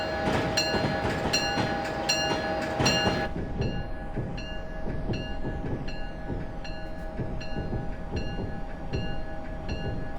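A MARC commuter train in the Train Simulator 2022 game runs in winter, with a steady low rumble, a high sustained tone and a regular clickety-clack of wheels over rail joints. No one speaks.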